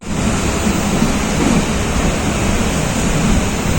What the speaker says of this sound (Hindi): बारिश पड़ रही है, बहुत शानदार हल्की हल्की बारिश हो रही है